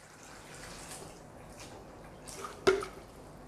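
RO water is poured into a bowl of vegetables, a faint low trickle with one sharper splash near the end.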